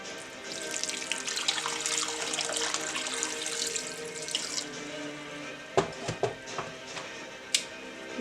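Water runs from a tap and is poured over raw fish in a sink to wash it, a steady broadband splashing for several seconds, then settling into a few louder sloshes and drips close by.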